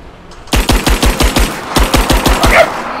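Rapid, loud bursts of automatic gunfire from the video game Rise of the Tomb Raider, a string of about a dozen sharp shots in quick rhythm, close and alone.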